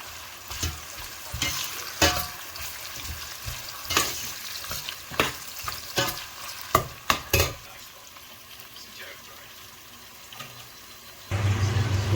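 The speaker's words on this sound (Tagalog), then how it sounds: "nagisa ko na guys" Ingredients for pinapaitan sizzle in a pan while being stirred, with a steady frying hiss broken by sharp clanks of the utensil against the pan, then a louder burst near the end.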